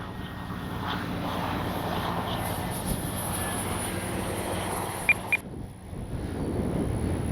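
RC Swift model jet flying aerobatics, a continuous engine roar with wind buffeting the microphone, fairly loud and steady, then briefly dropping away near the end.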